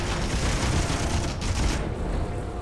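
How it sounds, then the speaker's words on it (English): An autocannon fires in the space game Miner Wars 2081 as a dense burst of rapid booming shots that runs for about two seconds and then cuts off. "let's turn on the autocannon here"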